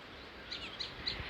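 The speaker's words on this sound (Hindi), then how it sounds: "फिर आ गई इन तोतों की आवाज़" Parrots calling near an apple orchard during apple harvest season: a few faint, distant high chirps come at short, even intervals over a quiet background.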